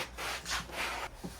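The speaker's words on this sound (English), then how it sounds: "you're going to take a cloth and just wipe off the sanding dust" A cloth wiping sanding dust off painted upholstered furniture, heard as a few soft, close rubbing strokes in a slow back-and-forth rhythm.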